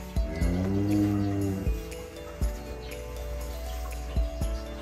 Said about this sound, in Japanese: この子はつい数日前に生まれた子牛です。